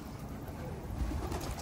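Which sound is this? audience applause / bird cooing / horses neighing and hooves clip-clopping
bird cooing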